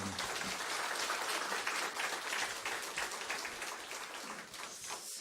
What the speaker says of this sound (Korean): 나오실 때 따스한 박수로 환영하겠습니다